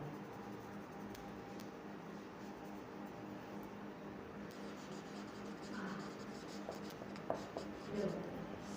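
Marker or chalk scratches across a board while columns are written out during an accounting lecture. The strokes are faint, soft and intermittent over a low room hiss, growing a little sharper near the end.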